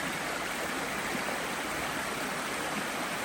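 Matt's Creek, a stream on the Appalachian Trail in Virginia feeding the James River, rushing steadily over rocks nearby in a constant, full broadband wash with no voices.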